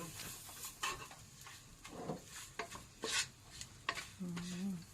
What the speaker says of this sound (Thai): คั่วไป